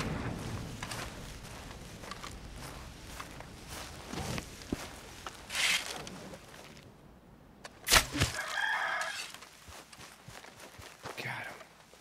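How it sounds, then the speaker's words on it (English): A rooster in the video game Red Dead Redemption 2 crows and clucks amid busy outdoor game ambience and footsteps, with a sharp louder burst partway through. "Thought I saw there was a rooster somewhere."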